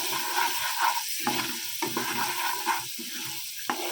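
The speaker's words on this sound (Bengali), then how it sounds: "আর এই যে ছোলা ভাজতে বসিয়ে দিয়েছি।" Chickpeas frying in a pan of oil with chilli tempering, a steady close sizzle broken by a few stirring scrapes, no voices.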